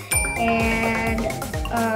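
A bright subscribe-bell sound effect rings out, a clear ding with chiming, tinkling overtones and descending tones repeating through two seconds, loud and alone with no talk.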